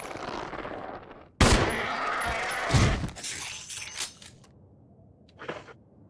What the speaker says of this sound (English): We might have to pull out the shotgun.